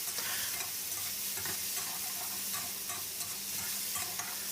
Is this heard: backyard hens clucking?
no